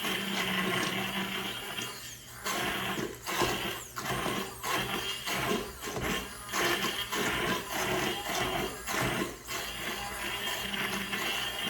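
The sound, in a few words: immersion blender blending soup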